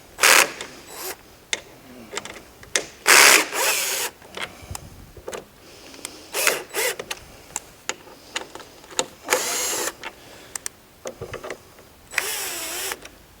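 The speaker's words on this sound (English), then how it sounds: "Now, I'm going to get these screws out of the back here" Screws being backed out of the rear panel of a metal detector on a conveyor, heard as bursts of whirring from a power driver between sharp metallic clicks and handling knocks, close and uneven in rhythm.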